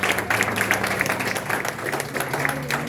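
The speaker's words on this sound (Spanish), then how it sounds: "Dense aplauso fuerte" A church congregation claps loudly together, a dense continuous patter of many hands with a low hum of voices underneath.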